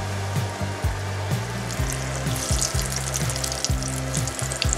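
Salmon croquette patties frying in a pan, a continuous bright sizzle over a low rhythmic throbbing hum, close and fairly loud with no talking.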